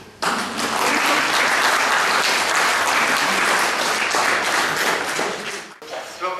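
Sustained applause from an audience at a French prize ceremony, a dense wash of clapping that holds steady at full strength for several seconds, then fades, with brief voices at the end.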